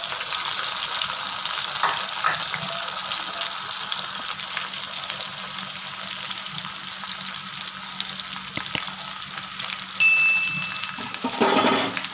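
Garlic, onion and curry leaves fry in oil for a Chettinad fish curry, a loud, even hiss that carries on without a break, with an occasional utensil clink and a brief clatter near the end.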